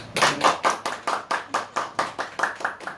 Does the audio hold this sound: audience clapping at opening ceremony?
yes